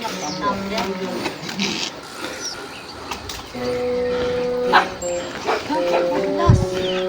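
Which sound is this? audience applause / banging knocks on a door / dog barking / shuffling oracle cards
dog barking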